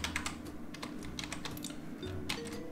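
Fingers tap out Python code on a computer keyboard, a close, quiet run of uneven key clicks over a low steady hum.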